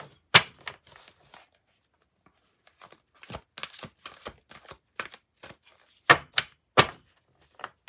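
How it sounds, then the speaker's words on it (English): Large oracle cards are shuffled by hand in quiet, irregular bursts of soft slaps and riffles, close to the microphone with pauses between. "These are such big cards, I can barely shuffle them."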